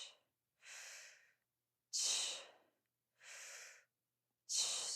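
During a yoga sculpt leg workout, a person breathes audibly in a slow, even pattern. There are five close breaths, each about a second long, separated by short silences and with no talking.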